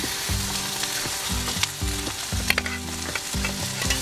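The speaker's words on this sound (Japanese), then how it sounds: "鶏の方ねソテーしていっちゃいますよ。" Chicken sautéing in a pan at a rainy highland campsite, a loud, continuous sizzle and crackle close by, with a few scrapes of stirring.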